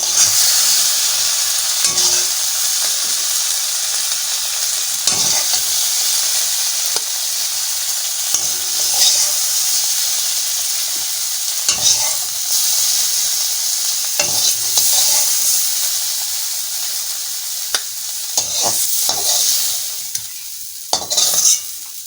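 Bottle gourd and shrimp curry, made with green chilli, mustard and bay leaf, is scooped from a pan. A steady sizzling hiss runs throughout, broken by repeated scraping knocks of a utensil.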